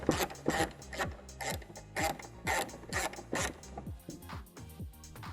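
Ratchet turning out 10mm bolts from a 2015-2022 Chevy Colorado headlight makes quick repeated clicking strokes up close, a steady rhythm of ratcheting bursts that slows toward the end.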